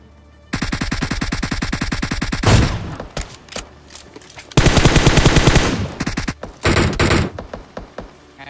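Assault rifle fire in a shooter video game: long rapid automatic bursts, loud and close, broken by short pauses and a few clipped follow-up volleys.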